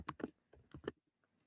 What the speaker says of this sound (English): this is Python code that we're typing